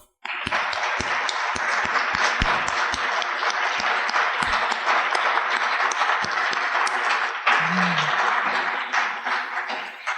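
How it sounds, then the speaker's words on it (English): Audience applause at an evening event honoring students, teachers, professors, staff and community members starts with a few scattered claps, then swells into sustained clapping from a large crowd that continues steadily to the end, with a short voice-like murmur late on. "please join me in giving a warm round of applause to our students, teachers, professors, staff, and community members and leaders who made this evening possible"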